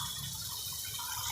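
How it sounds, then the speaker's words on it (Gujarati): Water poured into a simmering tomato and fenugreek curry masala gives a steady, close, continuous gushing and bubbling pour with no talking. "મસાલો ચડી જાય એટલું આપણે પાણી નાખીશું"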